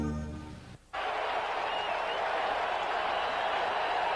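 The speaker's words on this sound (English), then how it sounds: "Tim Harris fired up with the crowd." A stadium crowd cheers and applauds at a 1989 Saints at Packers NFL football game in Green Bay, a sudden loud, sustained roar after a brief drop, continuing steadily to the end.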